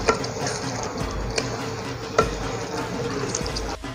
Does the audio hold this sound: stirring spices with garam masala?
yes